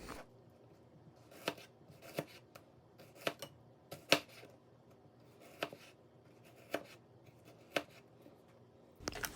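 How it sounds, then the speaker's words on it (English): A kitchen knife cuts butternut squash into thin slices on a cutting board, sharp distinct chops spaced about a second apart, close and crisp in a quiet room. "This recipe calls for cutting into thin slices. So that's what I do here. Enjoy some knife ASMR."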